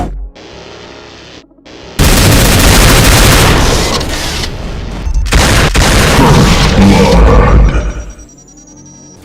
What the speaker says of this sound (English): a short barrage of heavy plasma explosive shots